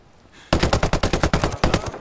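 Unsuppressed automatic gunfire in Ghost Recon Breakpoint during an assault on a gas pipeline: about a dozen loud, close, evenly spaced shots in a quick burst after a quiet half second.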